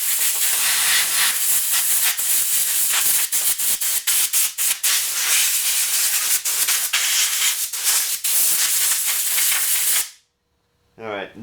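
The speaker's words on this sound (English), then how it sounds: "let's go ahead and let's blow some of the dirt" Compressed air blasts dirt and grease clumps off a truck's underside, a loud continuous hiss with brief interruptions, cutting off abruptly near the end.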